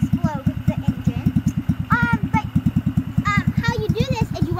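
A 125cc go kart engine idles in neutral while warming up, a rapid, even pulsing putter close by, with someone talking intermittently over it.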